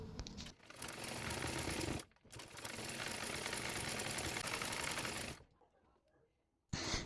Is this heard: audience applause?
no